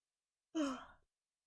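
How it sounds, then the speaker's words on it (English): A single human yawn, a short breathy exhale with a falling voiced tone, close and alone for about half a second between silences. "Sorry for the yawn."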